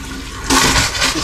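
Cold water gushing from a kitchen faucet in an Airstream trailer being winterized with compressed air: a steady rush that jumps louder halfway through as flow opens up, close and alone without talk.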